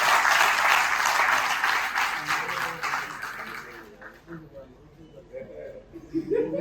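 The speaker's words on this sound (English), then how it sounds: "Please, another round of applause for her." A medical lecture audience breaks into loud, dense applause that holds steady for several seconds, then thins out and fades with a few scattered chuckles at the end.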